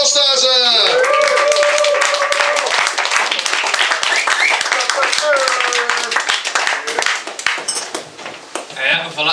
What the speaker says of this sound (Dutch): dames en heren, wil veel applaus